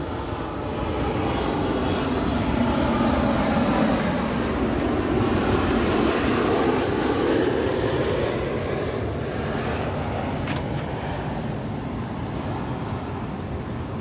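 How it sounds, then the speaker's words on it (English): A low, steady roar of an airplane flying overhead fills the scene for over ten seconds, swelling and slowly fading, loud and continuous with no talk over it. "Every minute a plane flying over"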